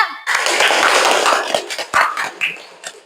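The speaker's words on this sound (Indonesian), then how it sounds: "Oke, tepuk tangan untuk kelompok 2." Classroom group applause for a student group after a discussion presentation, a short burst of clapping that thins into scattered claps and taps toward the end.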